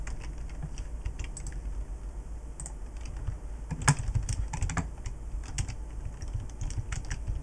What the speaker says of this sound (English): my keyboard is kind of broken right now, so I'm getting a new one soon